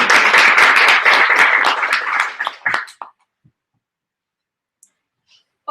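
A burst of audience clapping after a science talk on biosustainability, loud and dense for about three seconds, then thinning to a few scattered claps before silence.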